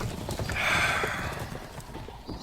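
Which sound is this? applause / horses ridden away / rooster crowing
horses ridden away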